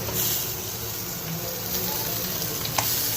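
Whole stuffed tilapia grills with a steady, close sizzling hiss that holds evenly throughout, and a single faint tick rises above it near the end.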